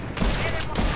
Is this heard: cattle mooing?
no